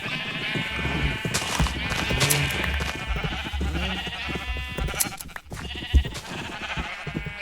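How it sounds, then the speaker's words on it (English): Sheep bleating in the Minecraft video game, several short bleats heard through a busy game soundscape with ambient music and other background sounds, fairly close and steady in loudness. "there's a sheep out there"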